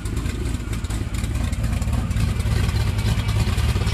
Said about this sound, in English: when you stand here, you can actually hear each side's cylinders firing